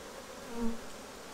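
Honeybees buzz in an opened hive during a frame inspection, a soft steady hum with one brief louder swell as bees pass close.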